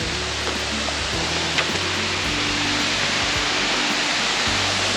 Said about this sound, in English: I've never shown Tuk Tuk Tory, a freaking waterfall, but look how close we got